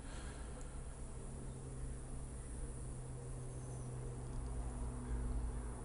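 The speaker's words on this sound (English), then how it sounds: "Cicadas are buzzing" Cicadas buzz on a summer day in a faint, steady high drone that holds through the whole stretch, with a low hum of background noise and no voices.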